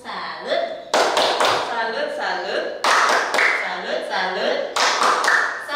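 Children at a Catholic parish Sunday school session in Indonesia perform a rhythmic clapping routine, sharp bursts of claps and taps in short patterned groups mixed with chanted voices.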